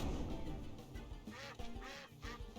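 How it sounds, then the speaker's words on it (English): A duck quacks in the video game Temtem, giving a rapid run of nasal quacks over a busy backdrop of game sound, fairly faint in the overall mix and with no talking. "Why is this duck quacking?"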